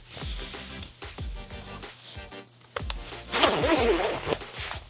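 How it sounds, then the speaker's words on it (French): A hybrid ski-touring jacket's outer layer being zipped shut: several rustling zip pulls and fabric movements up close, ending in a longer, brighter zipping stretch, with no talking. "On zippe comme il faut la dernière couche."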